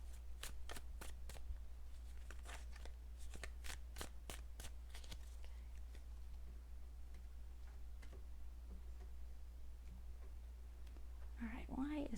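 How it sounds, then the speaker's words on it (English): Tarot cards being shuffled up close, a series of quick riffling snaps and taps, then a brief rustle near the end over a low background hum. "let me just shuffle a little bit"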